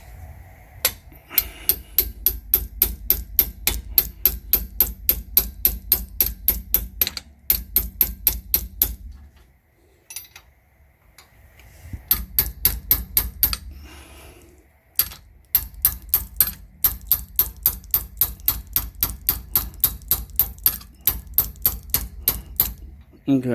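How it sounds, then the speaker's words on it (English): Rapid, rhythmic metallic hammer strikes on the lug nuts of a Honda Pilot wheel during a rear brake pad change, in long bursts, pausing briefly between runs, loud and close. "I'm just gonna use a hammer and hit a couple times up."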